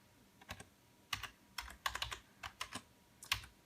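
Keys on a computer keyboard tapped in short, uneven bursts while a username is typed during setup of a Foscam FI9803EP outdoor IP camera, crisp and close with brief pauses between keystrokes.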